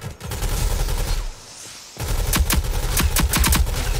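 Gunfire in the shooter game Rogue Company: rapid automatic bursts of close, loud shots, a brief lull, then denser volleys of sharp cracks returning, with no talk over them.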